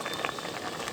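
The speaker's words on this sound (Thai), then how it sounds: "ต้มแล้วน้ำเดือดแล้วค่ะ" Water with vegetables bubbling at a steady rolling boil in a pot, a dense, close fizzing and popping with no voices.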